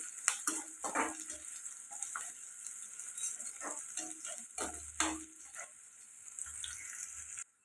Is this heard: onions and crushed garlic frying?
yes